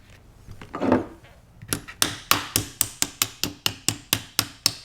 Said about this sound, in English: And tap it back in place.